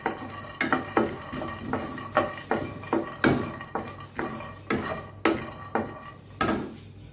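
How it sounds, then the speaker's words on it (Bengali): Peanuts roasting in a little oil in a frying pan rattle and scrape as they are stirred, with regular clattering strokes about every half second over a faint sizzle. "কয়েকটা চীনাবাদাম আমি ফ্রাই প্যানে ভেজে নিচ্ছি।"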